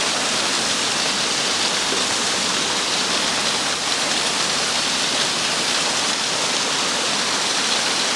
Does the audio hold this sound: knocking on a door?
no